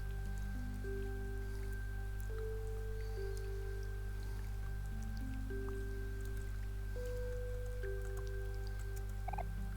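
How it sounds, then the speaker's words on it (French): Steady, loud heavy rain from the rainy town in the Omori video game, a continuous dense patter with game music tones layered over it and no talking. "Il pleut si fort aujourd'hui."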